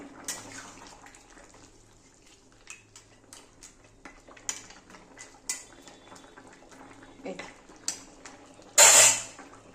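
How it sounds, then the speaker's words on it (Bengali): Fish head curry of katla fish being stirred in a pot, with scattered clinks and scrapes of a spoon against metal and one louder clatter near the end, over a faint simmer; no talking. "আবার একটু নেড়ে দিতে লাগবে।"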